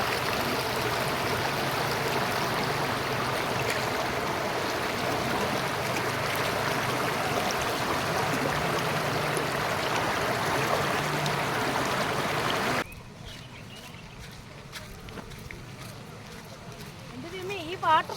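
A waterfall and flowing stream at a falls crowded with visitors give a steady, dense rushing roar for about thirteen seconds, then cut abruptly to a much quieter outdoor ambience with scattered faint sounds.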